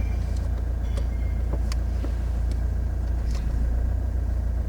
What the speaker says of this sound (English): show me how well you can actually move the car forwards very slowly in forward gear